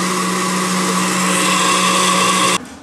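Blender grinding cumin and other ingredients for Mexican chilaquiles, a loud steady whirring roar for about two and a half seconds that then cuts off abruptly, leaving quieter room noise.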